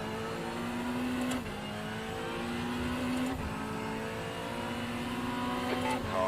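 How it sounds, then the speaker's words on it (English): Faster-class race car in an endurance race at Hockenheim, engine droning steadily with gear shifts, heard from inside a car with its own engine loud throughout. "Alright, Tom, there's a faster class car approaching"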